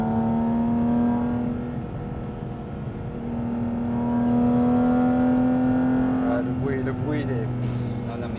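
A Porsche GT4 RS flat-six engine revving loudly and close, holding a sustained high-rpm wail with shifting pitch, while people talk over it near the end.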